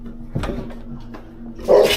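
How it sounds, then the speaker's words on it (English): Several security dogs bark at an abandoned site, a few sharp nearby barks spaced across two seconds, ending in a louder burst. "Security, and not just security, dogs, more than one."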